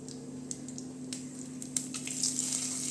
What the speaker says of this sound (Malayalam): നെയ്യൊന്ന് ചൂടായി വരുമ്പോൾ ഇതിലേക്ക് കടുകിട്ട് കൊടുക്കാം.